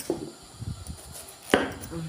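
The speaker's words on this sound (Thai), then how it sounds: "หั่นมะละตัดหัวตัดท้ายนะคะ" A knife chops bitter melon on a cutting board, trimming its ends, with a few close, sharp chops in quick succession.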